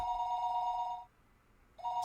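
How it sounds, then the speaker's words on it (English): A telephone rings with a bright electronic trill, one ring cut off by a short pause before the next begins, close and clear in a quiet room. "I noticed that the phone was ringing"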